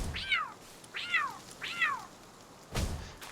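A cat creature in the video game Palworld gives three short, rising-then-falling meows at an even pace, then a single dull thunk, close and clear with no talk.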